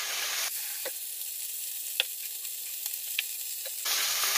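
Tomato stew sizzles and fries in a pan, with a loud hiss at the start and end framing a quieter stretch of scattered pops and stirring scrapes as water is poured in.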